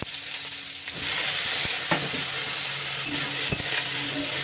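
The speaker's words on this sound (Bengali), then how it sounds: "বেগুন দিয়েছি বেগুনটা নেড়ে চেড়ে নিয়েছি" Eggplant fries in hot oil with a loud, steady sizzle, while a utensil stirring it adds occasional clinks and scrapes against the pan.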